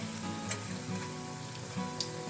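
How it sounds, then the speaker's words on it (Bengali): Pithe made from flattened rice (chire) and egg frying in a wok, giving a soft, constant sizzle with faint bubbling pops and a low steady hum beneath, close up and with no voices. "সবগুলো পিঠে একদম লাল হয়ে ভাজা হয়ে গেছে"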